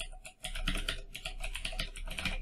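Quiet, close keystrokes on a computer keyboard tap in quick uneven bursts for a couple of seconds after a brief pause.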